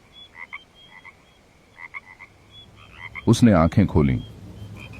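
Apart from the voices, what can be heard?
frogs croaking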